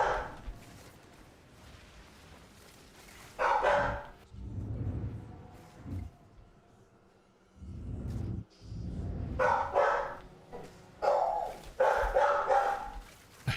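A restless dog barks in bursts across the clip, near and fairly loud, with pauses between barking runs and quieter stretches.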